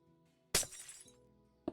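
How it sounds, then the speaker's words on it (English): Glass block placed in Minecraft Bedrock Edition: a sharp, bright crash and shattering burst that rings briefly, followed by a shorter clink a second later, no talk. "Place some glass"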